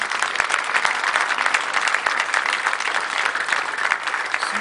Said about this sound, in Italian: e un altro applauso glielo faccio.